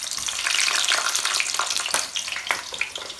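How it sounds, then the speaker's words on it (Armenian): Eggplant slices frying in a pan, a continuous bright sizzle with crackles and a few sharp pops, close and fairly loud, no voices. "հիմա թող էսենց տապակվի"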